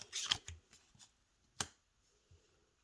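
Tarot cards being shuffled by hand, a few quick soft riffles and slaps close up, with faint taps and pauses between them in a quiet room.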